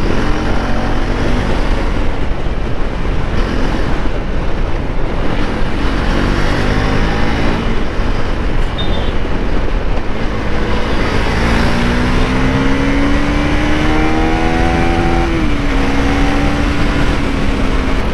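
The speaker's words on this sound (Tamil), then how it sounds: "நீங்கள் ட்விஸ்ட் பண்ணீங்கன்னா அப்படியே வண்டி அப்படியே சீறிட்டு பாயுது" A KTM Duke 390 single-cylinder motorcycle engine (2024) held loud and close throughout, its pitch climbing steadily as it revs and accelerates, with constant wind rush and no talk.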